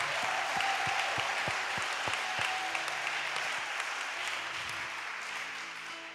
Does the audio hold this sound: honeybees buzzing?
no